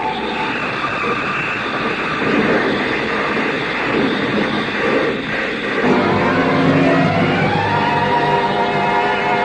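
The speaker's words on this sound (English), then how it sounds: "The car skidded on gravel and slid sideways toward the cliff." A car skids on gravel and slides sideways toward a cliff in an old-time radio detective drama, heard as a loud, continuous rumbling and grinding noise that swells and surges for several seconds with no talk over it.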